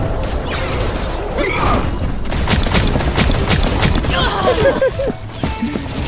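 Bombs fall and explode in the video game T3 Arena, a dense burst of booms, crackles and whooshing effects that comes in quick succession, with a voice talking over the din.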